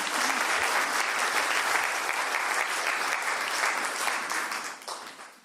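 Steady applause from a church congregation at a Baptist worship service, dense clapping sustained throughout and tapering off at the very end.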